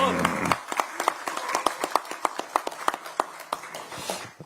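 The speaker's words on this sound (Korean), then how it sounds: "두 분에게도 큰 박수를 부탁드립니다" Audience applause at a budget event in Jeollanam-do, Korea: a room of hands clapping, starting from a voice and thinning into scattered claps that fade toward the end.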